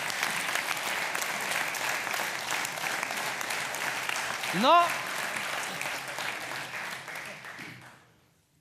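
Steady audience applause fills the hall at a Slovenian state ceremony marking the 28th anniversary of the decision for independence, continuous clapping lasting several seconds with a brief spoken exclamation in the middle before fading out.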